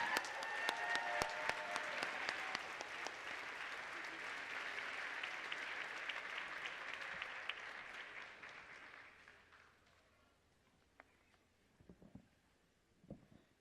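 Audience applause at a university commencement ceremony, with the class of 2023 graduating. Dense clapping fills a large hall for about nine seconds and then dies away into scattered claps and room noise.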